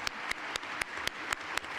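Faint, steady clapping at a UConn men's basketball press conference introducing head coach Dan Hurley, with sharp claps landing at an even pace about four times a second over a soft room hiss.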